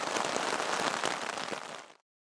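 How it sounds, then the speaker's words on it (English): Heavy rain, with bits of hail now and then, pours down on a Continental Divide Trail hiking camp in a dense, steady hiss that cuts off abruptly near the end. "It's really coming down. There's bits of hail every now and then."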